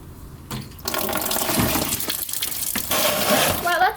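Coolant gushing out of a car radiator after the drain plug is removed, a steady loud splashing pour that sets in after a brief quiet start and runs to the end.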